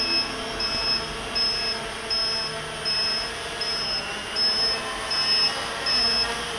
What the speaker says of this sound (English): and then we'll get rid of that buzzer.